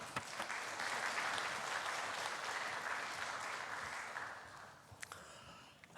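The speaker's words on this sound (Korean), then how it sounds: "나오실 때 박수로 환영하겠습니다." An audience in a church claps together in sustained applause welcoming a speaker, a dense wash of hands that swells then tapers off toward the end.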